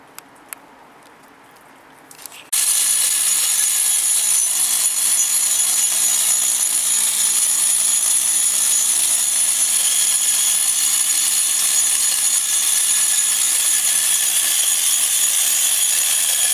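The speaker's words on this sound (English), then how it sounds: "You see we hit it there with the angle grinder." Angle grinder cutting along cracks in a concrete basement wall, starting abruptly after a brief quiet moment and then whining loud and steady with a bright, high-pitched grinding roar that continues to the end.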